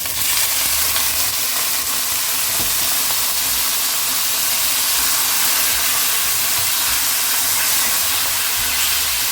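Chicken frying with golden brown garlic in a pan for macaroni carbonara, a loud, steady, close sizzling hiss that continues without a break.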